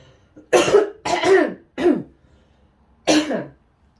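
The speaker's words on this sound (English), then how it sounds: "I want to cough" Four short, harsh coughs in an uneven series, close and fairly loud, with brief silent gaps between them.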